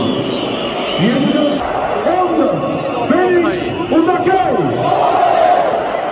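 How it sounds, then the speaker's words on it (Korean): Large stadium crowd at a Beşiktaş football match in Türkiye lets out loud, sustained booing and jeering, with rising and falling massed voices and whistles filling the stands throughout. "야유가 엄청납니다"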